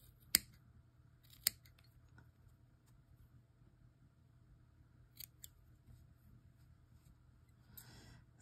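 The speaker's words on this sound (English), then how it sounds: "Then you can kind of trim the front so that it's a little bit flat." Scissors snip a yarn pom-pom heart tassel in a few sharp, isolated cuts, close and clear, against a quiet background with a faint low hum.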